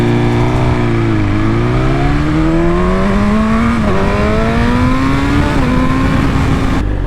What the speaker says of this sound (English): I was just going through the gears using my quick shifter